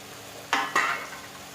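Fried capsicum, tomato and potato stirred in a pan: two quick scraping strokes over a soft background sizzle.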